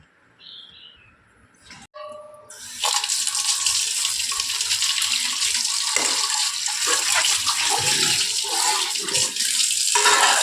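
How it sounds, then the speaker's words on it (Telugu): Water pours steadily into a steel bowl, a loud continuous splashing rush that starts after a few quiet seconds with faint birdsong in the background. "కొన్ని వాటర్ అయితే పట్టేసుకుంటాం"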